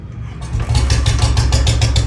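A Bullet motorcycle fitted with a heavy-sound exhaust kit rumbles at low idle, then the engine picks up into a louder, steady throbbing with rapid pulsing exhaust beats, close and loud with no talking.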